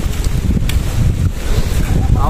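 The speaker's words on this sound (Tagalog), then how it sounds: "Sarap ng hangin." Steady wind buffets the microphone outdoors at the Mt. Samat shrine, a continuous low rumbling gust noise that stays loud throughout with no pauses.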